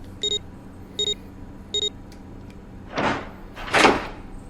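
A sliding door opens in the video game Zero Escape 999: three short electronic beeps, evenly spaced, are followed by two loud mechanical whooshes as the door slides open.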